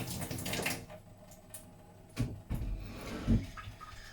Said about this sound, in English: So I wash it as usual